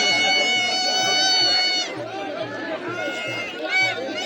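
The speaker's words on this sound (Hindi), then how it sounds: "तो देखिए दोस्तों भीड़, इसे बोलते हैं भीड़ भाई" Crowd at the Chakragaon village fair, a hill-region mela: dense bustling babble of many voices with steady hubbub, close and continuous throughout.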